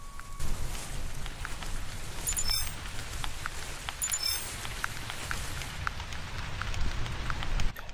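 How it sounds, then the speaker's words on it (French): Steady rain falls in the hunting game theHunter, a constant soft patter of drops over a low wash of ambient noise that holds at an even level throughout, with no talking. "La pluie qui vient se mettre de la partie."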